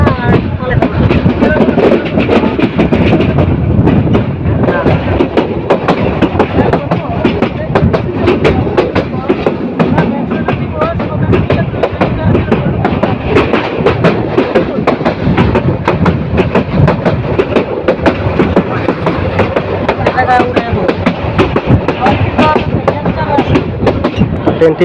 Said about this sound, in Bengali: বাঁক নিয়ে ট্রেনটি সামনের দিকে এগিয়ে চলছে